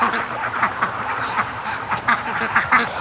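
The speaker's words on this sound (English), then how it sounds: "there's quite a few ducks behind me here" A group of ducks quacking repeatedly and overlapping, nearby and fairly loud in an outdoor pen, with geese close by and no talk.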